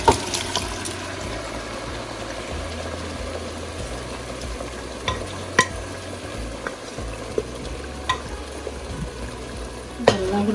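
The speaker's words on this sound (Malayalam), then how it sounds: "ഞാനിപ്പോൾ ഈ സ്റ്റോക്കോട് കൂടിയാണ് മട്ടൻ ചേർക്കുന്നത് കേട്ടോ." Mutton pieces being stirred into a spiced stock in a pan for a restaurant-style gravy: a continuous low bubbling sizzle broken by scattered clinks and scrapes of a spoon against the pan, with no voices.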